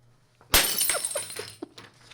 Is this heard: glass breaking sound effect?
yes